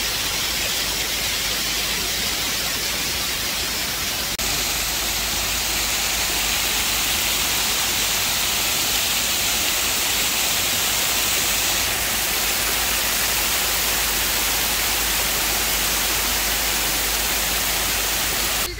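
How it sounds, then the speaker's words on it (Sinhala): A water fountain in Melbourne splashes with a constant, dense hiss of falling spray, loud and unbroken throughout with no voices. "ලස්සන වතුර මලක් වගේ එකක් තියෙනවා."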